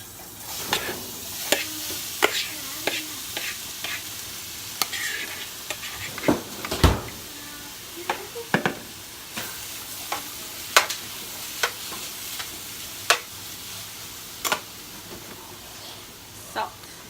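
Onion and meat frying in a non-stick skillet, a soft steady sizzle broken by repeated scraping and stirring clicks from a utensil, with someone talking quietly in the background.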